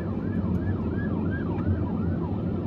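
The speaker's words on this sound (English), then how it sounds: "Yeah, you hear the sirens." An emergency vehicle siren wails in a steady rising and falling cycle through daytime Atlanta traffic, loud and continuous over the rumble of the road.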